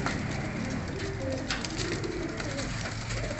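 Several pigeons cooing close by, soft repeated throaty coos over a steady dense background hum, continuing throughout.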